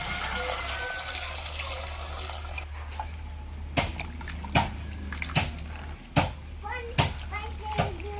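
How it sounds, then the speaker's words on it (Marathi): Freshly picked hadga flowers being washed in clean water in a home kitchen, with a run of sharp splashes and sloshes in the second half and a voice in the background. "फुलं निवडून झाली की आपल्याला स्वच्छ पाण्याने धुवून घ्यायची आहेत."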